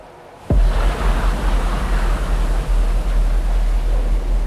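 Swirling water in an underwater cave sets in abruptly and then churns steadily as a dense, even hiss and rush, close and fairly loud, with no voices.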